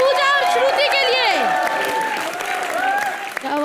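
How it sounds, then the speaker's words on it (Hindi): Studio audience at a Hindi TV comedy show applauding loudly and steadily, with cheering and tonal musical sounds running through the clapping. "एक बार जोरदार तालियां शकील, पूजा और श्रुति के लिए"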